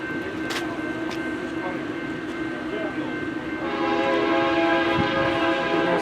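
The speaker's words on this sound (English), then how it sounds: "Here comes our first freight of the day after the steam train just left. A BNSF. Looks like an oil train." A BNSF oil freight train rolls past, a steady rumble with wheel and rail noise that grows louder and denser toward the end, with a faint horn-like tone throughout.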